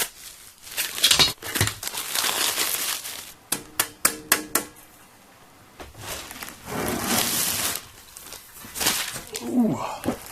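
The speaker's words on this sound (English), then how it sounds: "I'm going to just unwrap all this stuff and then put it on the table" Packaged nuts and bolts for a welding table are unwrapped close by: crinkling plastic, tearing, and a quick burst of small metallic rattles and clicks, with bursts of loud rustling in between.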